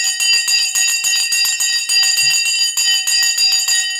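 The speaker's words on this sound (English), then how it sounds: "The bell has gone." A stock market opening bell rings on a live trading stream, a bright metallic ringing repeated in quick steady strokes for about four seconds, loud and close with no talk.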